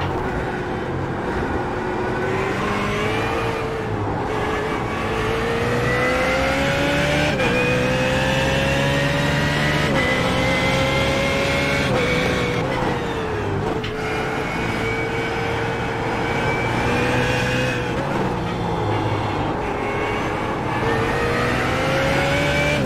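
BMW GT3 race car in the iRacing sim, its engine droning loud and continuous as the pitch climbs and drops with repeated gear shifts over a long stretch of driving.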